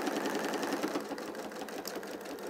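A sewing machine with an integral walking foot stitches through a quilt, giving a quiet, steady, rapid mechanical whir with faint rhythmic ticking throughout.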